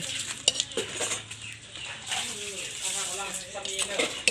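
Chili paste ingredients being dry-roasted and stirred in a pan for Thai nam prik narok, with scraping and clinking of a utensil against the pan, soft and uneven, and a person speaking quietly over it.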